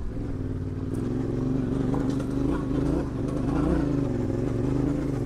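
A Yamaha Tenere 700 motorcycle climbing a hill, its engine a steady close drone that rises and falls slightly, with gravel clatter and wind noise over the top.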